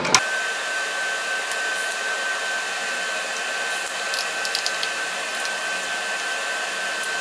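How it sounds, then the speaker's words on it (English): A welding torch runs continuously and loudly at close range while a tube is tack welded onto a custom scooter frame built from a wrecked scooter, a steady hiss with faint crackles and a thin whine. "I'm gonna go ahead and tack this tube in now."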